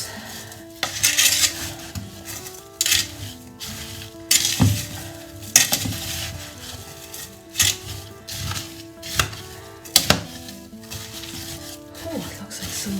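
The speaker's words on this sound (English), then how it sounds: "We give it a good mix." Chutney fruit being stirred in a pan with demerara and white sugar, bursts of spoon scraping and metallic clinks against the pot, irregular and close, with a soft sizzle underneath.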